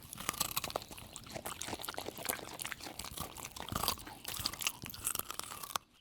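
Two farm animals crunching and chewing on carrots beside a barn, a close, steady run of wet bites and munches over six seconds with no talk.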